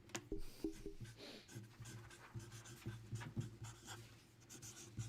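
Pen writing on paper, faint scratchy strokes coming in short irregular bursts under a low steady background hum, with no talk.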